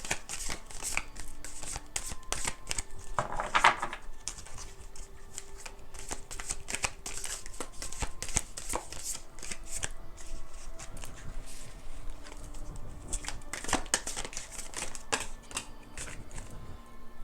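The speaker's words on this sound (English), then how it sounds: "I was shuffling the cards" Tarot cards being shuffled by hand in a steady run of soft, rapid riffling flutters and slaps, with a few brief bursts and quiet pauses between.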